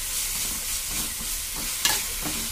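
Ginger garlic paste frying in a hot pan gives a steady, soft sizzle, broken by a few spoon scrapes and a short sharper clink near the end.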